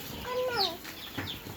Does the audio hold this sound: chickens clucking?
yes